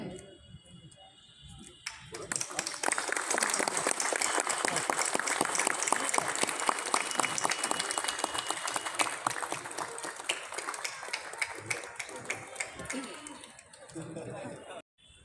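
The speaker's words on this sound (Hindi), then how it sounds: "हम सब तालियों से इसको सराहें।" A crowd at a Republic Day balloon-release ceremony held by the Income Tax Department in Patna applauds loudly for about twelve seconds, the clapping rising quickly, holding steady, then tapering off.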